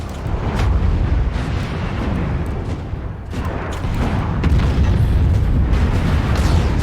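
Heavy missile explosions and booming impacts roll almost without pause through a MechWarrior 5: Mercenaries mech battle, loud and dense across the whole stretch with no voices in between.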